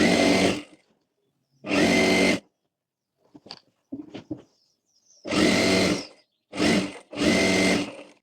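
A sewing machine stitches fabric along the lower part of a full-flare umbrella dress, running in five short bursts of a second or so each with quiet gaps between, loud and close, with faint handling clicks in the pauses.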